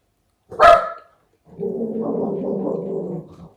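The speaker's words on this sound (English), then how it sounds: "You might hear Jillian barking because there's another dog barking." A single sharp dog bark up close, followed after a pause by a sustained low growling whine from the dog.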